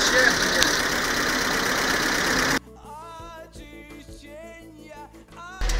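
A GAZelle van engine fitted with VAZ electronic ignition runs steadily with a dense, rough drone for about two and a half seconds, then cuts away to someone talking.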